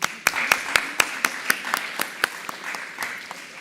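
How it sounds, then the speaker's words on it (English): Applause from a conference audience in Dubai, rhythmic, evenly spaced claps that stand out sharply over a softer spread of clapping from the room, moderately loud. "Let's give them a round of applause, please."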